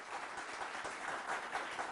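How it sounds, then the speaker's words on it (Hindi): Studio audience clapping at a televised Hindi debate show, a faint, steady spread of many hands over two seconds with no voices. "खुद अपने लिए तालियां मारिए और स्वागत करिए अपना"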